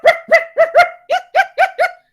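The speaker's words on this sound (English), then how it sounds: "you're very distracted by this dog that suddenly started barking" A dog barks eight times in quick succession, loud and close, in two rapid bursts of four with a short pause between, each bark sharp and clear against silence.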